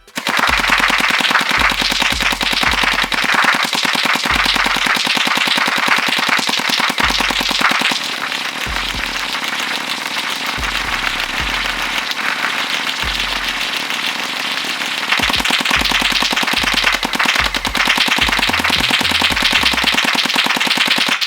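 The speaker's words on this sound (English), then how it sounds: "now let's go get the Yagee Shark Blaster and see how that one does" A Yagee Shark AK47 gel blaster fires in long, rapid full-auto bursts, loud and close, its mechanical rattle running nearly continuously with short pauses between strings of shots.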